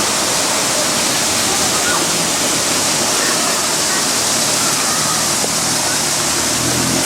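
A fountain at a monument in Budapest gives off a steady, even rush of splashing water, a constant broadband wash that continues without pause for the whole stretch.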